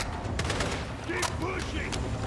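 Gunfire in a military shooter video game, rapid bursts of shots and impacts crackling together, with in-game voices and radio chatter heard alongside.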